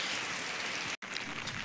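Rain falling outdoors on a farm where bullocks graze, a faint, even hiss of drops with a brief dropout midway.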